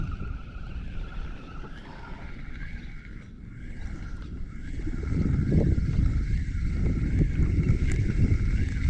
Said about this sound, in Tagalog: May hangin na pa naman oh.